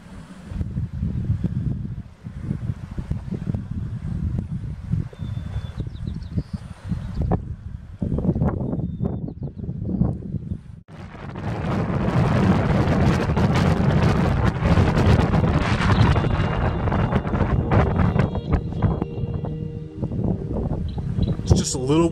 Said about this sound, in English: A little windy through here.